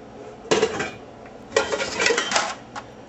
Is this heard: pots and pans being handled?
yes